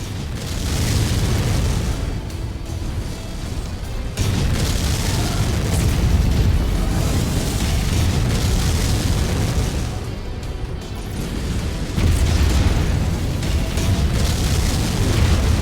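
Heavy missile explosions in MechWarrior 5 during a Rasalhague campaign battle, with deep booming blasts rolling one after another over a dense, continuous rumble of combat.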